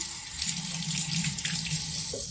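Running tap water splashes steadily into a kitchen sink as thyme is rinsed for a Jamaican red peas fish soup, a continuous close hiss throughout.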